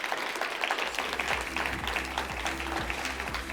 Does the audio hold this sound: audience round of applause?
yes